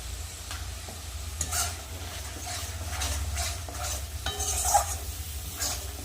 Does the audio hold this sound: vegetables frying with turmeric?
yes